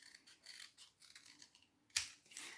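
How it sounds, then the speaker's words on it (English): Scissors snip through sections of card in a few quick, light cuts at close range, with one sharper, louder snap near the end, no talking. "I'm going to cut the sections."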